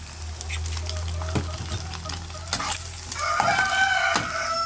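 Bangus sisig with egg stirred in a home frying pan, a steady sizzle with repeated scraping strokes of the utensil, close and moderately loud, and a rooster crowing faintly in the background.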